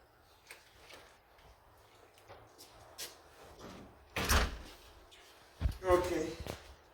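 A Shark vacuum cleaner's dust-bin door is shut twice in quick succession, two loud close clicks or thumps standing out over a quiet room with faint handling noise.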